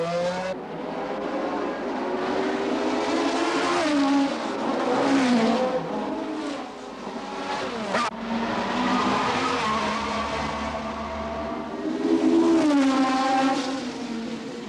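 1969 Formula 1 race cars roar past at the Monaco Grand Prix, loud engines rising and falling in pitch as they scream by, with continuous high-revving whine throughout.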